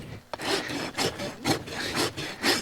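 An old, worn rasp files a horse's hoof during shoeing in about five or six quick, rhythmic scraping strokes, close and clear with no talk.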